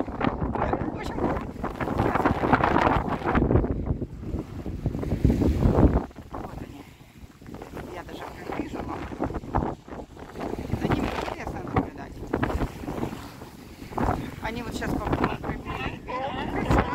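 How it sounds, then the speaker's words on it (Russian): Strong wind buffets the microphone in a park beside the water, a steady broadband rush that swells loudest in the first six seconds and then continues a little lower throughout. "Вот такой ветер, что он меня не слышит."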